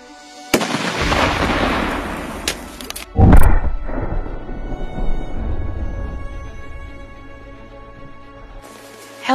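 Large firecrackers strapped to military helmets explode in a loud, close burst of crackling blasts, with one heavy bang standing out and crackling trailing off before a final pop.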